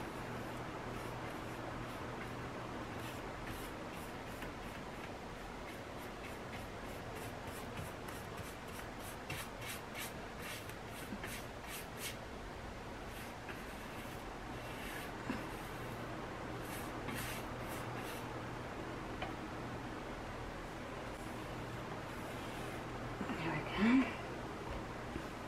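A brush laying a second coat of paint on the front of bedroom furniture, a soft steady rubbing and stroking that repeats close by with no talk.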